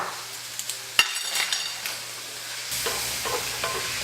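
Vegetables for two-meat sloppy joes soften in a pan with black pepper, giving a soft sizzle broken by a sharp utensil clank, then a brighter, louder frying hiss with light stirring.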